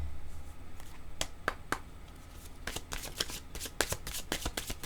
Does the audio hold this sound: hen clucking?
no